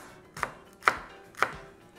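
Three sharp knife chops on a cutting board while ingredients are prepared for jambalaya, evenly spaced, close and crisp in a quiet kitchen with no talk.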